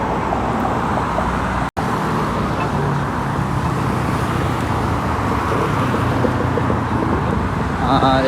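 Steady road traffic at a signalized intersection in Canada, heard while waiting to cross: a loud, continuous roar of passing cars and wind-buffeted rumble, with no speech.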